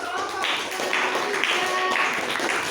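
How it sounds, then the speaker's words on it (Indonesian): Applause for a student group in a school classroom session, a broad sustained patter of many hands clapping for a few seconds without a clear break. "kasih tepuk tangan untuk kelompok"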